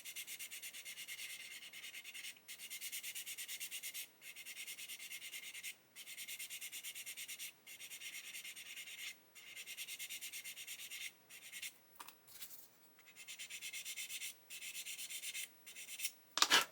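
A sanding stick rubs across plastic Airfix 1/48 Spitfire model parts in long steady strokes, a close dry scratchy hiss broken by brief pauses, ending with a few quicker rough scrapes; no talking.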